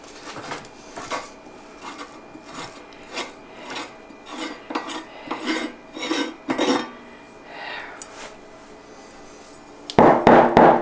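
Metal parts of a meat grinder being swapped while making venison breakfast sausage, the grinding plate changed for a different size: scattered scraping, clinks and rattles at close range, ending in a louder burst of metallic clatter.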